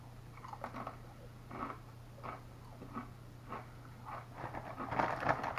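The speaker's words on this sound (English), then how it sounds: "As normal, Doritos has their normal crunch, their normal texture and feel." Someone chews Doritos Flamin Hot Limon tortilla chips close to the mic, with repeated crisp crunching bites that grow louder toward the end, over a low steady hum.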